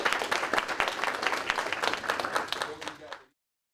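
An audience applauds speaker Derrick Love after his talk on financial freedom, a dense patter of many hands clapping with a voice mixed in, ending abruptly after about three seconds.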